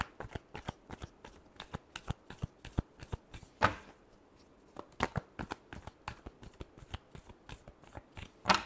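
Tarot cards are shuffled in rapid crisp bursts, sharp flicking clicks repeating through the whole stretch with a short pause in the middle, close and clear.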